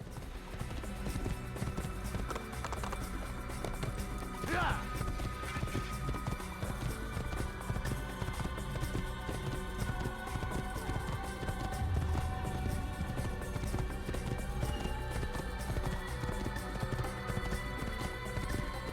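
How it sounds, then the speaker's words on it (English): A horse gallops in the Assassin's Creed video game, its hooves making rapid, continuous rhythmic thuds over a dense game soundtrack and ambience that runs steadily throughout. "Okay, we can gallop to jump over things."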